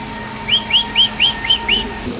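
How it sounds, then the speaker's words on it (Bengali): Spanish pigeons in a coop, with a female sitting on two eggs, produce six evenly spaced high chirps in a quick, regular rhythm, close by and clear over a quiet background. "দেখেন বিউটি কবুতর মাদিটা অলরেডি ডিম নিয়ে বসে রয়েছে দুইটা দুইটা ডিম নিয়ে"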